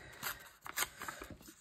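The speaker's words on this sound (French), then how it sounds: "ce que je vais faire de toute façon, c'est que je vais essayer de venir couper," Scissors snipping through vellum paper in a craft journal, several short crisp cuts in quick uneven succession, close up and quiet with no voices.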